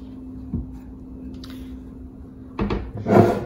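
A kitchen spice drawer opens with a short wooden knock, then a louder sliding scrape and rattle of contents, all close by.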